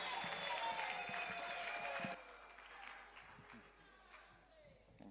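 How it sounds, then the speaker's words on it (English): An audience at a business dialogue event applauds, a dense wash of clapping that holds loud for about two seconds, then thins and fades, with a voice speaking over it. "let's give him a round of applause"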